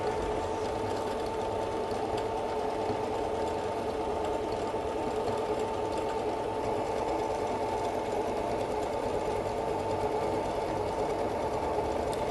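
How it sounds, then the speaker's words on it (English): A Singer 7465 sewing machine stitches decorative patterns with a steady, smooth, quiet mechanical hum that runs unbroken and evenly throughout, with no voices over it. "What you'll notice while the machine's sewing is how quiet and how smooth it is."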